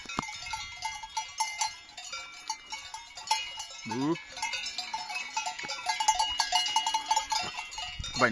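A cow wearing a clanking cowbell on an Alpine path, with irregular metallic bell rings close by, a couple of low animal calls, water running in the background and a voice speaking now and then.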